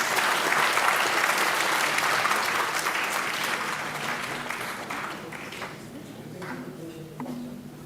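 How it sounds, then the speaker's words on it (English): An audience at a national marketing conclave applauds in a dense burst of clapping that slowly thins out, with voices starting to talk over the fading claps. "I request everyone to give a huge round of applause."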